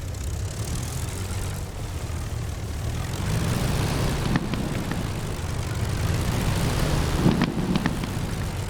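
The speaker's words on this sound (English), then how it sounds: "twin Rolls-Royce Merlins is that distinctive crackle you get when you throttle down quickly" De Havilland Mosquito with twin Rolls-Royce Merlin engines in DCS World, a steady low propeller engine drone at throttle-down, with a few sharp crackling pops near the end.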